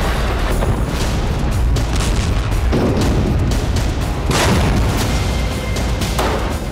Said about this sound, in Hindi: हमास के लड़ाके टैंक के नजदीक पहुंचकर आईडी हमले कर रहे हैं।